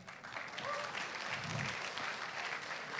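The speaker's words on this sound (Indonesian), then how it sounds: "Tepuk tangan dong." An audience breaks into applause at a talk, a continuous patter of clapping hands at moderate distance that holds steady for the whole few seconds.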